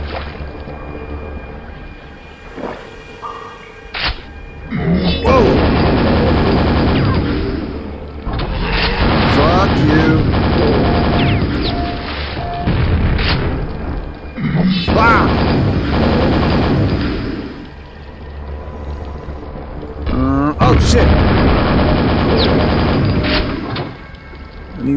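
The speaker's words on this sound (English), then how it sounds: "That's a badass nail gun." Nail gun firing in the Quake VR video game, loud bursts of rapid repeated shots in several long volleys over a busy game soundscape, with brief pauses between them.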